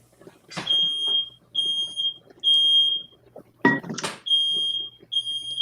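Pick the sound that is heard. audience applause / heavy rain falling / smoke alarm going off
smoke alarm going off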